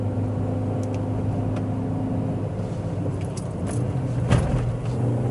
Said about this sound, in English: Brake, downshift, heel toe, and off I go. Okay, so in third gear.